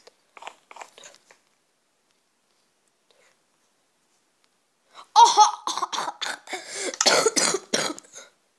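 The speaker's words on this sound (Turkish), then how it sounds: "Öksürük geldi." A person coughs repeatedly in a burst of several sharp, close coughs and throat sounds, preceded by a few faint short ones, during a Minecraft PE Sky Wars gaming session.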